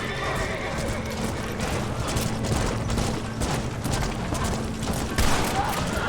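Gunfire in Red Dead Redemption: a rapid string of sharp shots crackles over galloping hooves and horse whinnies, loud and busy throughout, with voices in the scene.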